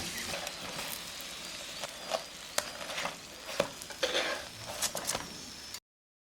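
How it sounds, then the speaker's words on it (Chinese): Yellow zucchini pancake frying in a lightly oiled flat pan, with a soft steady sizzle broken by scattered clicks and scrapes of a utensil against the pan, close and moderately loud, ending abruptly. "一面摞到金黄，翻过来摞另一面。"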